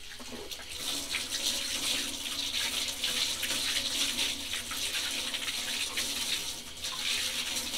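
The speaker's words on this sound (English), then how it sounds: "Rinse out all the paint and then use a little bit of soap to get it clean on the last final phases" Running tap water pours steadily over a paint-soaked sponge being rinsed clean at a sink, a continuous close splashing hiss with no talk.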